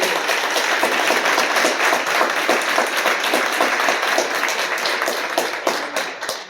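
Audience applause at a Lansing Community College event, dense steady clapping filling the room for several seconds before thinning out at the end.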